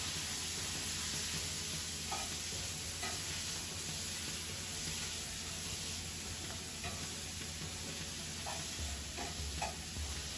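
Butter and lemon juice sizzle in a hot pan with asparagus, a steady close frying hiss with a few faint clicks of stirring and no talking.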